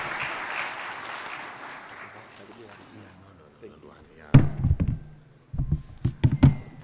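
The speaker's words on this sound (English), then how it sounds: "Let's give him another big round of applause." Applause from the audience at a consultative workshop on a national economic recovery plan fades out over a few seconds, followed by a voice and some loud close thumps and knocks.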